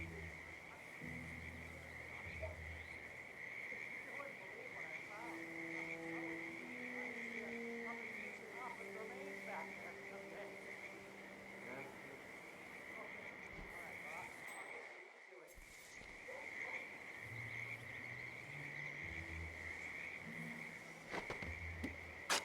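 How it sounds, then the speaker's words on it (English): Frogs croak near a creek in the stealth video game Hitman 2, a steady chorus of quiet calls under a constant high insect-like drone, with someone speaking throughout and a brief dropout midway. "a species of frog that has been declared endangered"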